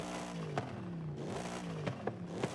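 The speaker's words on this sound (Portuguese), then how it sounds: "Ficou bonito esse barulho V8" In Forza Horizon 5, a Mercedes SL 65 AMG Black Series fitted with a 6.2 L V8 revs repeatedly, its tone rising and falling in sweeping waves, with a few sharp pops between revs.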